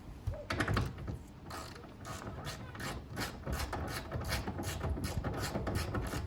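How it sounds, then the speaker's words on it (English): A ratchet wrench being handled during interior trim work on a Nissan R32 GTR, giving a run of close, fairly quiet mechanical clicks and rattles with light handling noise and no speech. "where did my ratchet go?"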